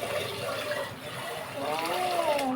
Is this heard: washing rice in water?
yes